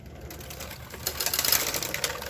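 A KR260 knitting machine carriage slides across a row, making a quick mechanical clatter and rattle that swells over about a second, close and moderately loud, with no talking.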